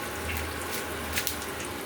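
Tap water runs steadily at close range while fish is washed in a home kitchen, a continuous broadband splash with small bursts of spatter.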